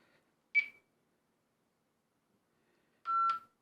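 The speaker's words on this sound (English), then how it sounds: "Sorry about the beeping. There probably is a way to turn that off." Two short electronic beeps from a SilverCrest PMR446 handheld radio, one higher and brief, then a lower, longer tone a few seconds later, in an otherwise quiet setting.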